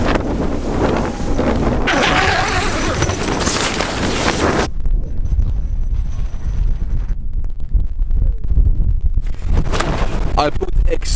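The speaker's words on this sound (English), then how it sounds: "The tent is almost like normal, except for all the wind noise." Strong wind buffets a tent while cycle touring in Morocco, a loud continuous roar of gusts hitting the microphone throughout, with the rush swelling and easing between heavier and lighter blasts.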